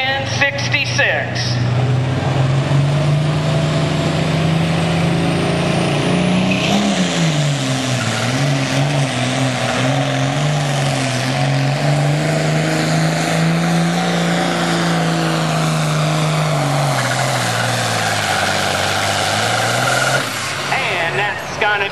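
An International 1066 tractor roars steadily through a pull run at a truck and tractor pulling event, a loud continuous engine drone whose pitch dips and climbs as it works against the sled, with background chatter from the event.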